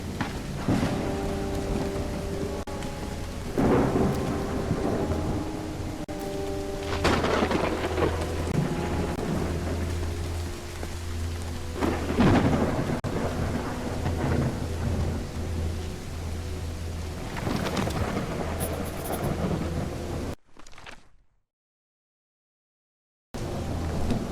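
In the video game Call of the Elder Gods, heavy rain pours steadily while thunder rumbles and cracks several times, loud and close, before the sound abruptly cuts out near the end.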